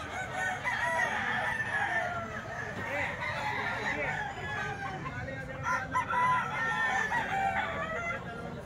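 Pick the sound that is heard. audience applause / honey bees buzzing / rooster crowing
rooster crowing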